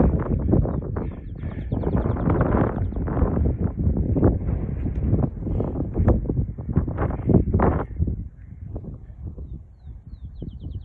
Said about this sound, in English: If the wind don't get too bad.